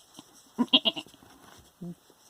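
Goat bleating in short quavering calls, a cluster of three or four close together followed by a brief lower call, moderately loud and near with no talk over it.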